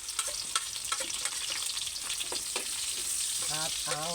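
Garlic and onion sautéing in a pan for tinola-style fish soup with papaya: a close, steady hiss with scattered crackles and light stirring, and a voice speaking briefly near the end.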